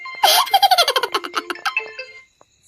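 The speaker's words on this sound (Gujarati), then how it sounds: "ફોન આવ્યો" A phone ringtone sounds in a Gujarati comedy sketch: a bright electronic melody of quick descending notes, loud and close, running about two seconds before cutting off.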